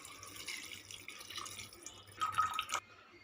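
Water trickles and splashes steadily into a pressure cooker holding basmati rice for egg biryani, with a louder burst of pouring near the end before it stops.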